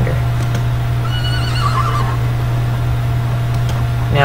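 A horse neighs in a wild west video game, a loud whinny rising over a steady game hum with faint clip-clop and fowl-like calls around it, no speech.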